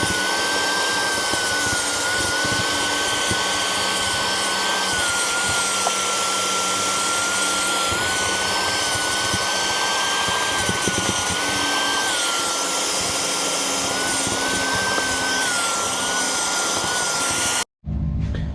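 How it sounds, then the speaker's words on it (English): A small shop vac runs steadily while cleaning a Ford Focus ST's car interior, a loud constant whine with rubbing and scraping as the nozzle works over surfaces, cutting off abruptly near the end. "All I'm gonna do is just shop vac it."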